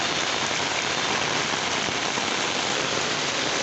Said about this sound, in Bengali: পুকুরে দেখছেন অনেক বৃষ্টি হচ্ছে